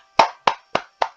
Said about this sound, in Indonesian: Saya tepuk untuk kamu ah.